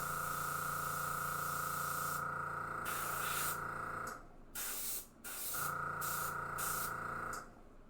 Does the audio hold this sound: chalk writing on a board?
no